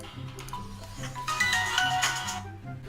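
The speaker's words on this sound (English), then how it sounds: "I had to take a little cut there because I got a call, as you could hear" A short melodic phone ringtone plays a bright repeating tune, fairly quiet and heard on its own.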